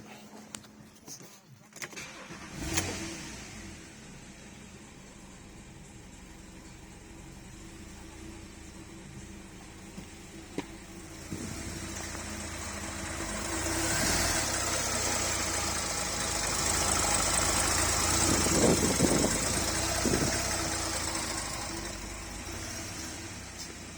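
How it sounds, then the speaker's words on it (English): A Porsche 997.2 Carrera S flat-six, fitted with a modified air flow meter housing, cranks and fires up, then settles into a steady, slightly rising idle that continues close by for about twenty seconds. "so I can actually start the car up"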